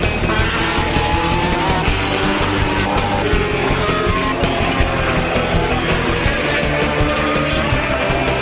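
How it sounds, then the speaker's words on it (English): MotoGP motorcycles in a practice session, engines screaming continuously at high revs as bikes run past at close range, loud and unbroken with no talk. "the group was treated to a MotoGP practice session"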